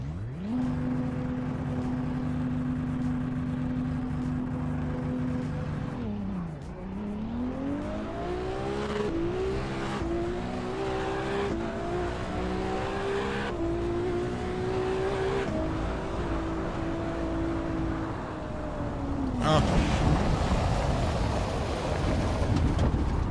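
A Ferrari 296 race car engine in the racing game Assetto Corsa EVO revs hard through repeated gear changes, its pitch climbing and dropping, ending in a loud burst of rougher noise.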